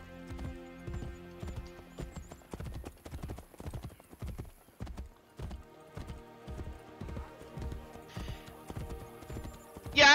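Horse hooves clip-clop in a steady trotting rhythm in Assassin's Creed Brotherhood, clear and close, with faint background tones and a short high jingle near the end.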